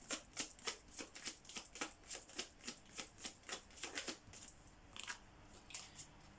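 Tarot cards are shuffled close up in a quick, regular train of crisp riffling flicks, about three per second, that slows and thins out toward the end.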